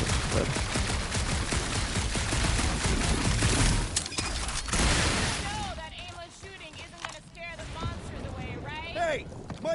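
Gunfire bursts in the Marvel's Guardians of the Galaxy video game, dense crackling shots filling the first half before thinning out, with character voices talking over the later part.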